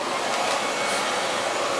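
A hair dryer blows steadily and loudly at close range throughout an art studio painting session, with a continuous airy rush and no talking.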